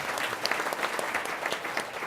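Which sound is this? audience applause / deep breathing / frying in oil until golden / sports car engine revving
audience applause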